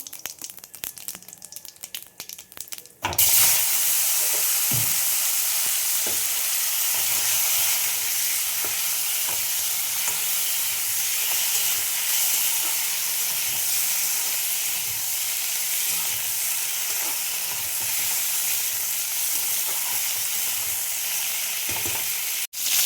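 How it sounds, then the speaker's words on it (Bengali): Cauliflower and potatoes frying together in a pan after a cumin tempering, bursting into a loud, steady sizzle that holds for about twenty seconds, with occasional stirring scrapes and no talk. "আমি এখানে কপি আর আলু একসাথে ভেজে নেব।"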